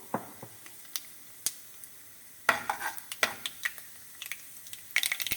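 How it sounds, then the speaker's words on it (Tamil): Mustard seeds and urad dal crackle and pop in hot oil for vegetable rava upma, scattered sharp pops, some in quick clusters, fairly faint, with no talk. "கடுகு வெடிச்சிருச்சு."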